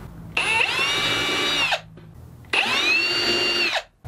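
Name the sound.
power drill drilling hinge holes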